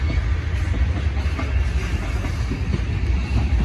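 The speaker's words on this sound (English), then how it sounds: "Leah's recording the train." A train rolls along rails beside a river in Pennsylvania's scenic river country, a steady, loud low rumble with faint rhythmic clatter throughout, close by and uninterrupted.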